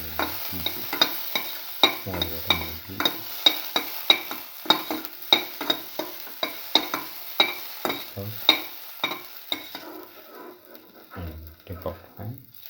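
Ham frying in a pan while being stirred, a steady sizzle broken by regular scraping strokes of the spoon, close and moderately loud, easing off near the end.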